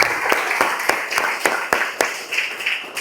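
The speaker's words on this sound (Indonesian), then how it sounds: "kita berikan tepuk tangan dulu buat teman kita" Classroom applause for a student who answered correctly: a short run of sharp, evenly spaced claps, moderately loud and close, continuing steadily for a few seconds with no talk over it.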